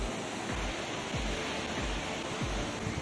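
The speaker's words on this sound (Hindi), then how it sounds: "नीचे तेज पानी बह रहा है" Fast river water rushing beneath a broken, disused bridge in the Zanskar mountains, a continuous loud roar with low thumps recurring every half second or so.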